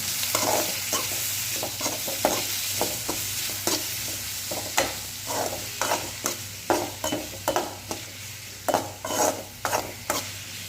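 Tomato slices sautéing with onion in a pan for sambar, a steady close sizzle with rhythmic scraping stirs of a spoon repeating every second or so, no voices.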